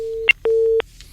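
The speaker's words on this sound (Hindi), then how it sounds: "और देखिए फिर फोन कट गया।" A telephone line drops during a radio phone-in call, giving a steady electronic tone cut into sections by short clicks, repeated two or three times, loud and clear with no voices.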